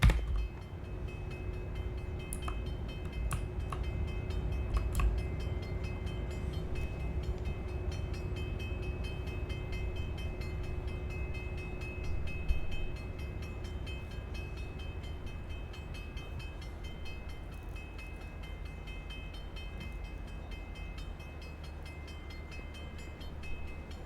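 Low rumble of a moving train in the Cities: Skylines II city-building game, with a steady hum, a few faint clanks and tonal whistle-like lines, continuous for about 24 seconds with no talking.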